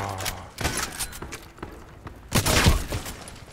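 Assault rifle gunfire in the shooter game Contract Wars, heard as a few short bursts of sharp cracks with a louder volley near the end, set against low background noise.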